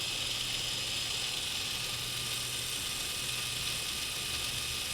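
Wolverine Stealth X motor in an RC crawler spinning steadily at 60% throttle, a constant high, thin electric whine with a faint low hum underneath, unchanging throughout and no speech.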